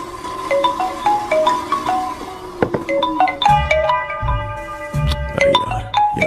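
A phone rings with an incoming call, a bright repeating electronic melody of stepped tones that plays loud and close, joined partway through by denser chiming notes and low thuds, with no voices.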